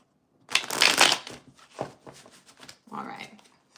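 A deck of tarot cards riffled and shuffled in quick bursts, close and crisp, with a few softer shuffles and card taps afterward.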